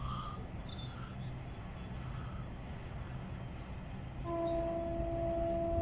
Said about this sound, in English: it sounds like there's a high-speed train coming, or Thames Link